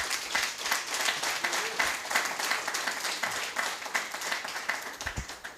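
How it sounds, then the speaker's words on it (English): An audience claps in steady applause at an interview event, a dense patter of hands that holds for several seconds and thins out at the end. "Let's give him a big round of applause."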